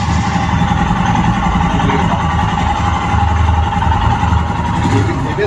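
A Royal Enfield Himalayan BS6 motorcycle engine runs steadily nearby, a loud continuous mechanical thrum with a fast low pulsing beat and no pauses.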